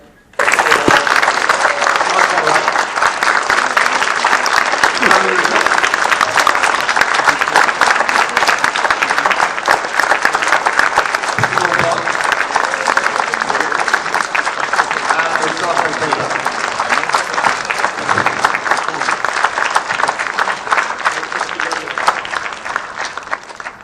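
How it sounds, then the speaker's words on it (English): A large convention crowd at a British sci-fi event in Leicester gives loud, sustained applause for Tomorrow People actor Nick Young, a dense unbroken roar of clapping lasting over twenty seconds, with some crowd noise mixed in. "would you please give a huge round of applause for Nick Young"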